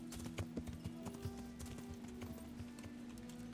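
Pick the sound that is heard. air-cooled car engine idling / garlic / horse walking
horse walking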